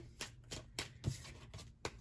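A deck of cards being shuffled by hand, heard as several quick riffling bursts spaced irregularly, close and fairly faint, with no talk over them.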